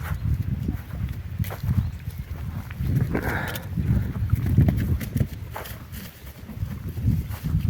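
A mare's hooves clop in a slow, uneven walking rhythm close by, with soft rustling and shuffling around them.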